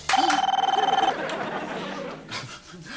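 An indoor telephone bell rings in a fast, loud trill for about a second, then stops, followed by faint rustling and a brief vocal sound.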